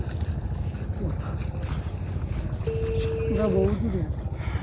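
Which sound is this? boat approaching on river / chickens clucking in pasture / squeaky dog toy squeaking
boat approaching on river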